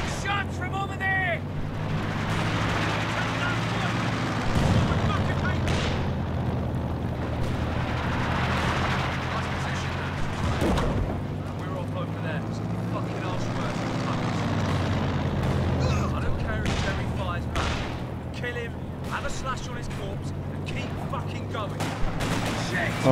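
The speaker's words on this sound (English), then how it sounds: "Only mortars." Mortar fire in Company of Heroes 2 comes as scattered distant thumps and blasts over a constant battlefield rumble of gunfire and engines, with voices calling out across the scene.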